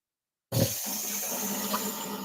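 A blender jar is rinsed under a running tap: water gushes on suddenly and keeps up a steady splashing hiss.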